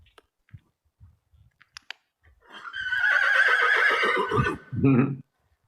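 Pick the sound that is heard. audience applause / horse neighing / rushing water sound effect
horse neighing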